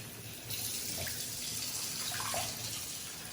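Tap water pours steadily into a kitchen sink being filled to wash leafy greens, a continuous rushing splash that swells louder after a brief quieter start and runs on alone without talk.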